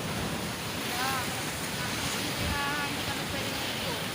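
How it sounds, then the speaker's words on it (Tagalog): Strong surf breaking at BagBag Beach in Alaminos City, Pangasinan, a steady loud wash of waves with wind buffeting the microphone and a few faint voices in the background. "malakas yung alon."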